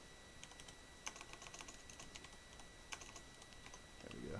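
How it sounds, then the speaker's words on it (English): Typing on a computer keyboard while writing code, a quiet close-up clatter of irregular key taps with a few sharper clicks and a faint hum underneath. "I'm having trouble typing today"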